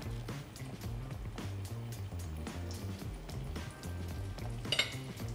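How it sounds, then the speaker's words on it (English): Almond-meal-coated katsu frying in hot oil gives a low, steady sizzle, broken by repeated sharp clinks and clatter of pans and utensils close by, with no talking. "And then you dunk it to the hot oil."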